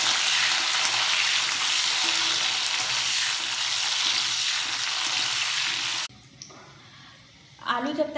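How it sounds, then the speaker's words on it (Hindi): Boiled potatoes shallow frying in about three teaspoons of oil in a kadhai for dum aloo, a loud, dense, continuous sizzle that stops abruptly near the end, followed by quieter kitchen sounds. "आलू जब तक शैलो फ्राई हो रहे हैं"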